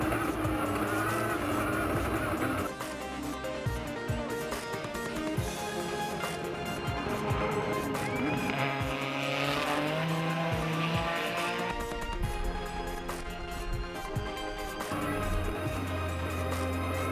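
A 3100cc Suzuki twin-turbo, dual overhead cam 4-valve V6 race car producing 910 horsepower roars continuously at the Pikes Peak hill climb, its loud engine note rising and falling with tire squeal and music-like layered noise throughout.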